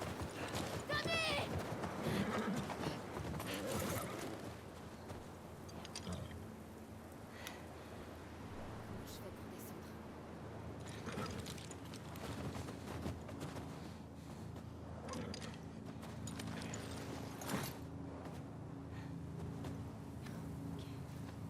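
Horse hooves clip-clopping at a steady gait in the video game The Last of Us Part II, with rain falling throughout and a possible whinny; someone talks over it in French across most of the stretch.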